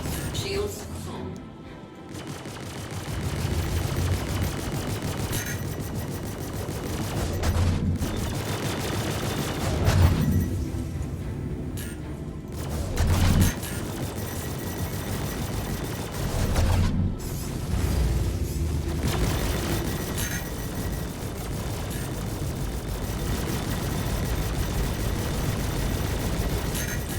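Spaceship weapons fire repeatedly during a Star Citizen dogfight in an Anvil Arrow fighter, producing continuous mechanical rattling bursts and thuds over engine rumble, with occasional gaps and a synthetic voice speaking now and then.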